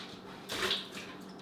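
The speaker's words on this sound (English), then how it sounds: "And then you'll take this excess water here and dump it out." Hot water tipped out of a Bodum pour-over coffee maker gives a short, soft splash and pour lasting under a second, faint and close against a quiet background.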